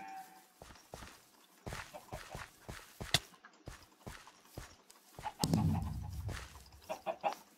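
Chickens cluck amid busy blocky video-game sounds on a Minecraft-style farm, with clip-clop hoof steps and clattering effects layered throughout at moderate volume.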